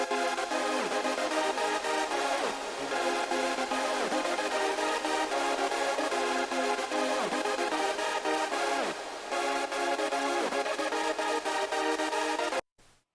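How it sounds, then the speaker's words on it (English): A background lead synth is drenched in very wide, dreamy reverb, its notes sweeping and smearing into a continuous shimmering wash that plays steadily before cutting off abruptly near the end. "Basically, it's a really wide, really dreamy sounding reverb."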